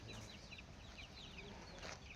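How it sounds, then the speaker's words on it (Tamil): Native country chickens cluck softly on a farm, with faint, scattered calls over low, quiet background noise. "இதெல்லாமே நாட்டுக்கோழி தானா?"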